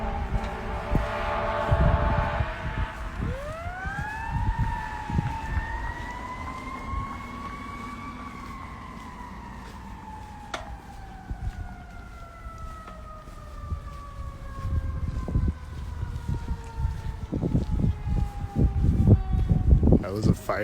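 A fire engine's siren rises, holds a long wailing tone and slowly fades as the truck passes and pulls away, with street and traffic noise underneath.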